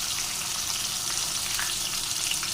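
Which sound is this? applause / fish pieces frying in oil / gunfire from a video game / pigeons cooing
fish pieces frying in oil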